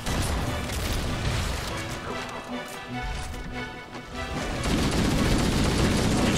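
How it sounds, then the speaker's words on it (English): A rocket launcher fires in the video game Halo CE amid a dense, continuous wash of game combat noise: sharp crashes and gunfire-like bursts at a steady loudness, with the roar building louder toward the end. "Did you shoot your rocket? Yeah, it's gone."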